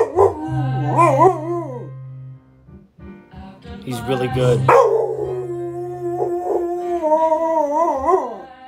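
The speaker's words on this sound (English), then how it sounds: "Bet you fools don't have a singing, talking dog" A dog howls in long, rising and falling tones as if singing, loud and close, with a steady low musical drone underneath and someone briefly speaking between howls.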